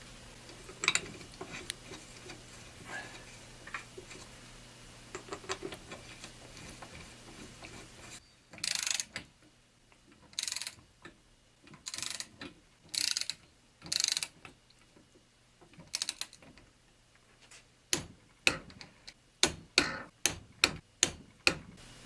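A disengaged John Deere 400 gearbox being turned by hand to set bearing drag gives quiet mechanical ratcheting and gear clicks, first scattered, then in short bursts, then a fast string of sharp ticks near the end.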